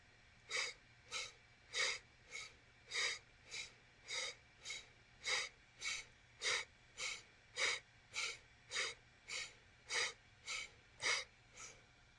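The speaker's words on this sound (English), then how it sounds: "Breathing through the nose." During a yoga session, someone breathes forcefully through the nose in a steady rhythm, about seventeen sharp close exhales spaced under a second apart, with no talking.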